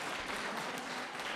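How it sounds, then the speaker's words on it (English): An audience applauds a guest speaker at a talk, a steady wash of many hands clapping at even volume, with no voices standing out. "Clap while I organize my notes"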